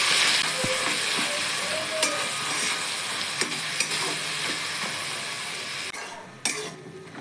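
Shrimp tossed with ground garlic and chili paste in a wok, with a steady wet sizzle, scraping and spatula clinks against the pan throughout, close and moderately loud.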